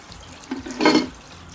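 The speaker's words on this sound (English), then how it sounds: "Let's pour this sucker out." Dirty water from a Bissell Spotclean Pro tank is poured out into a sink, a short close splash and gurgle that swells and fades within about a second against quiet background.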